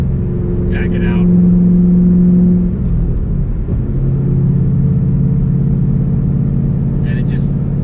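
Engine of a 2013 Shelby GT500 droning loudly and steadily, holding revs then dropping and climbing again, with a voice talking over it.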